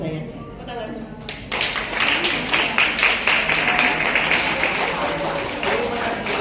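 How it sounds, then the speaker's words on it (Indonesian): Audience applause in a university biostatistics lecture hall, dense clapping starting abruptly and holding steady for several seconds at moderate loudness with some voices mixed in. "Tepuk tangan."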